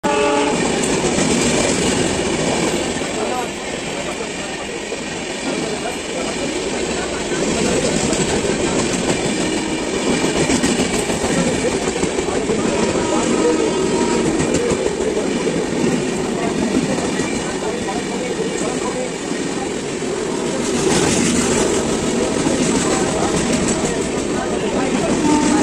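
A local train bound for Howrah pulls in, its rumble and clatter loud and continuous throughout, with horn blasts sounding over it, the noise swelling again near the end.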